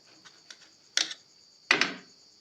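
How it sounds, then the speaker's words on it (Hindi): A knife cuts through fried bitter gourd pakoras in a few crisp, close crunches, two soft taps followed by two sharper slices, against a quiet background. "तो देखिए, हम चाकू की सहायता से इसको काट लेते हैं पहले।"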